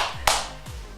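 One sharp hand clap rings out, followed by a short room echo. Low swooping tones trail before and after it.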